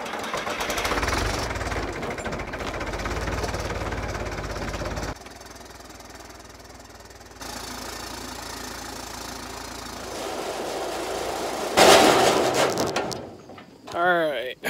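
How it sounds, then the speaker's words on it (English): A green farm tractor runs a grain auger, its engine droning and knocking steadily at mid pitch, shifting in level across sections with a brief louder burst and some mechanical rattles near the end. "Let's put this green tractor on here so we can run the auger"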